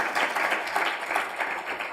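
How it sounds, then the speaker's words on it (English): An audience at a religious liberty talk applauds, a brief, fairly quiet burst of many hands clapping together with a little murmuring beneath it. "please give a round of applause to Tim for making this possible."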